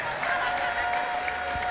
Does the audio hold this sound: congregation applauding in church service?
yes